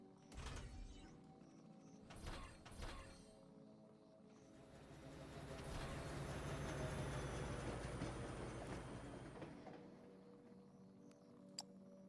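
A train passes in Factorio, the rolling rumble of the cars building and swelling mid-clip then fading, with faint clunks and a sharp click near the end, heard quietly and without speech.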